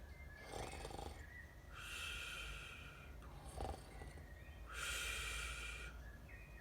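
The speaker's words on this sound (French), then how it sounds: "C'est alors qu'on entend un léger ronflement." Slow, soft snoring of a sloth repeats in a steady rhythm of rasping breaths and snorts, quiet and close, with pauses between each breath.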